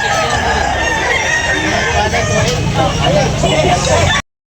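A rooster crows amid a busy, noisy crowd at a rooster-selling market, with chatter and background commotion throughout.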